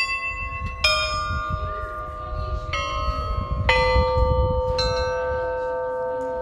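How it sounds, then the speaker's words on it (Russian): Church bells pealing at an Easter celebration, struck one after another in a slow irregular sequence, each strike ringing out loud and clear with a long sustained hum that overlaps the next. "любой желающий мог не только послушать колокольные перезвоны, но и попробовать себя в роли звонаря"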